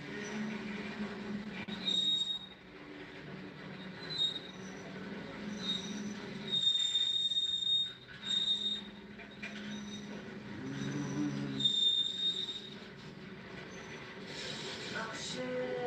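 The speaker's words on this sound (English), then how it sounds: "Sometimes I do actually fall asleep to train sounds." A freight train rolls along the rails with steady rumbling, punctuated by several high, thin wheel squeals that come and go.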